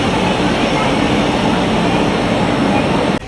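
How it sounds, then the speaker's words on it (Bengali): Crowded Howrah metro station with trains: a loud, steady roar of rumble and crowd noise fills the space and cuts off abruptly near the end. "হাওড়া মেট্রো স্টেশনের অবস্থা দেখো, টিকিট কাউন্টার পুরো ভিড়"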